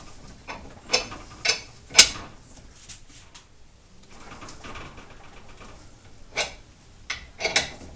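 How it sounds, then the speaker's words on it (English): A 1/2-inch drive ratchet with a 7/8 socket turning a ball joint press to force the ball joint out of its socket on a 1979 Camaro: sparse, sharp metallic clicks and clunks in separated bursts, close and fairly loud, with no talking. "so we're pressing it down now. And that will force that ball joint out out of its socket."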